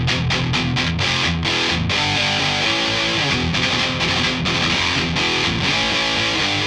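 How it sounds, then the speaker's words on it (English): Electric guitar plays a hard rock tone through heavy distortion from a Polychrome DSP McRocklin amp-sim suite, thick and loud throughout with rhythmic chugs and brief stops between strummed chords. "Let's hear how it sounds when we do some distortion tones."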